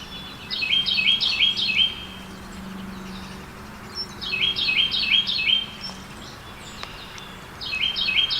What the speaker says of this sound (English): You can hear all the birds singing.